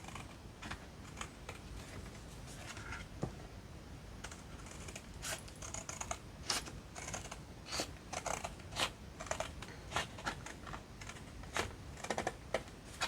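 Scissors cut around a paper envelope template and round off its corners, giving a close, steady run of crisp clicking snips with no voices.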